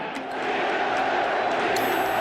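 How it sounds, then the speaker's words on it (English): A basketball arena crowd roars steadily and loudly throughout, with a sharper swell of cheering near the end and no clear talking over it. "the crowd is going crazy"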